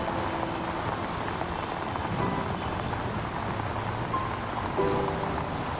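Steady rain falls outdoors as a dense, even hiss of drops hitting surfaces. It is moderately loud and continuous throughout, with no voices.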